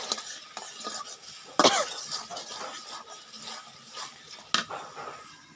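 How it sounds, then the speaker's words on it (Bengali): Spices being stir-fried with fried onion and chili in a pan, with a steady scraping and sizzling texture and two sharper clatters of utensil against the pan. "এই যে হলো আমি এখন মশলা কষাইতেছি।"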